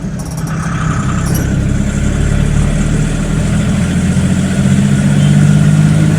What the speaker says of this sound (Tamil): ஒரு லாரி ஒன்று போகுது, உங்களுக்கு தெரியும்னு நினைக்கிறேன்.